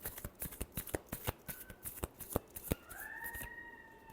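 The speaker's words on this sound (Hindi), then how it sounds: "Last shuffle." Tarot cards are shuffled close up in a quick series of crisp riffling snaps and flutters. Near the end, a faint tone lingers in the background.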